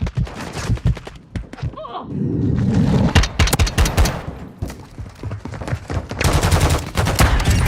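Enemy gunfire in a student-made video game crackles in rapid bursts of shots, with short pauses between volleys and dense sustained fire toward the end.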